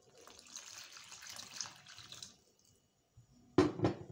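Water pours into flour for kneading dough in a soft steady stream for a couple of seconds, stops, then two short louder splashing knocks follow.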